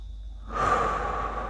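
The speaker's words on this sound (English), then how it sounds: "Slow, conscious breathing in through the nose" A slow, steady breath drawn in through the nose, close and soft, a single airy inhale that begins after a short quiet moment and holds to the end.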